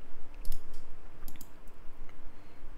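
Computer mouse clicks, several sharp, light taps in an irregular sequence over a quiet room background, close and crisp, with no speech.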